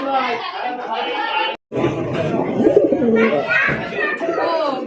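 Blue Pakistani high flyer pigeons coo in a flock, a continuous busy murmur of calls, with people talking over them at a pigeon sale.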